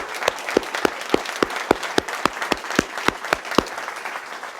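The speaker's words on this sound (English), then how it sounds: "let us applaud them all!" Crowd applause for soldiers, sailors and Marines, heard as a steady run of sharp, evenly spaced claps with no talk over it.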